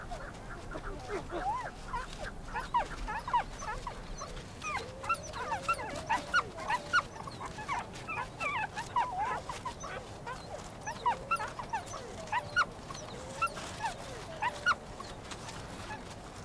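Young predator pups near their den whimper and yelp in a busy, overlapping chorus of high whines and squeals that goes on for the whole stretch, fairly close and moderately loud, with no talking.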